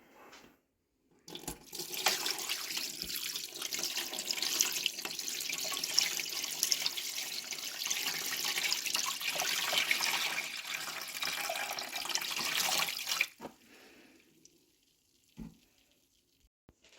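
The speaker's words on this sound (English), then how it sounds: "We're going to add some water." Tap water runs steadily into a cooking pot holding a turkey, a loud continuous splashing rush lasting around twelve seconds before stopping, followed by quiet with a faint clunk near the end.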